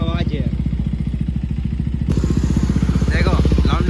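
A KTM Duke 390 fitted with an aftermarket exhaust idles and revs up close with a steady, rapid pulsing beat, its note rising into stronger revs in the second half.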